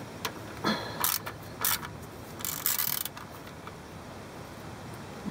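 A ratchet undoing transfer case bolts: several short bursts of quick clicking ratcheting, close and fairly clear, separated by brief pauses, with steady background hiss and no speech.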